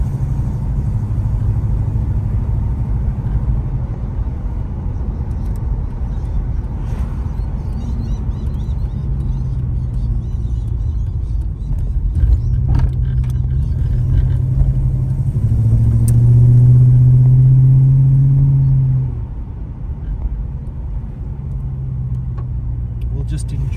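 A VK Commodore Brock tribute with a V8 engine drives with a deep, throaty rumble, swelling into a louder rev near the end before settling back to a steady cruise.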